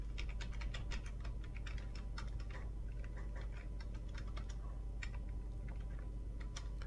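Keyboard typing while entering a union operation in the OpenSCAD 3D modeling program: a steady run of light, quick clicks over a constant low hum, fairly faint and close, with no talking.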